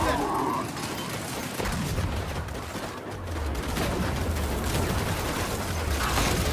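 Gunfire in the Gears of War 5 video game, a dense continuous clatter of shots running throughout the clip with a low rumble beneath and voices talking over it.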